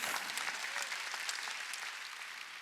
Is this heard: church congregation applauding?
yes